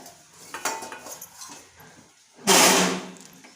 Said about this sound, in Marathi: कढईमध्ये मी पाणी ठेवले